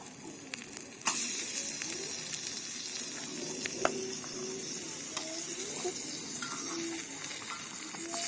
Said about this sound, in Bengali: এবার দিতে হবে চিকেন ঢেলে দাও হাত দিয়ে না ঢেলে দাও দেখ